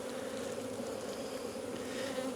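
Honey bees in a small-scale beekeeping colony hum in a steady, even drone on a brood frame, soft and close with no pauses and no voices.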